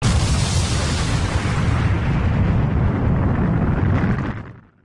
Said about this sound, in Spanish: escuchan una ultra explosión en una ciudad bastante lejos, pero parecía haber explotado junto a ellos